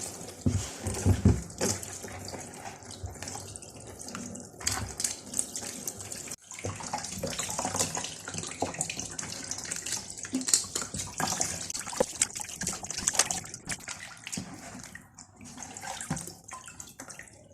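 Tap water runs steadily into a sink while fish is rinsed and cleaned by hand, with splashing and irregular bursts as the flow hits the fish, close and moderately loud, with no talking.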